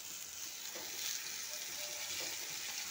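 Dhekia fern greens hitting fried onions in a hot pan for an Assamese dish with chickpeas, giving a steady, close hiss of sizzling oil that swells slightly midway and continues unbroken to the end.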